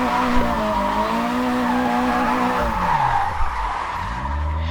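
A car in the Japanese Drift Master racing game drifts with a loud, sustained tire squeal over a revving engine, the pitch sliding and wavering through the slide, close and continuous with no talking.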